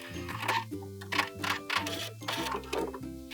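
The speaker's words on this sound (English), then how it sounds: "Now go ahead and sew where your chalk line is at your shoulder strap." A sewing machine stitches a swimsuit shoulder-strap seam in short rapid bursts, several run-and-stop cycles of fast mechanical ticking, close and clear with brief pauses between.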